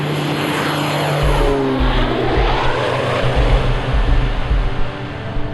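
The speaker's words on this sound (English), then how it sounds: "The aircraft behind me is a Pacific Aerospace 750. It's a single-engine turbine-powered aircraft" A Pacific Aerospace 750, a single-engine turbine-powered cargo aircraft, roars nearby with a loud, steady propeller drone and turbine whine whose pitch slowly shifts as it moves.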